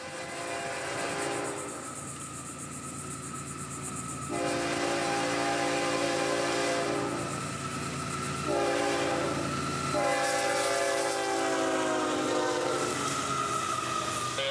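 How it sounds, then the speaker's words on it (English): A northbound FEC freight rock train out of Miami rolls past on the main track at Fort Pierce, Florida, at about 55 mph, with a steady loud rumble and two long, sustained horn blasts. No one speaks. "Brightline continues to roll by on the main for FEC 206, who would be following that northbound closely"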